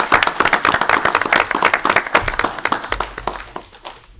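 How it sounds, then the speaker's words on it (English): A round of applause from attendees at a city council special meeting, dense clapping that rings out for about three seconds before thinning and fading, with no talk over it. "maybe one more round of applause for amazing citizens"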